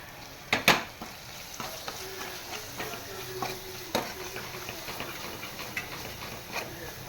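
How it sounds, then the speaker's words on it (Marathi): Pav bhaji masala sautéed on a tava for tava pulav: sharp spatula scrapes and clinks against the pan over a soft continuous sizzle, with a couple of louder knocks early on. "पावभाजी मसाला पण छान असा परतवून घ्यायचा."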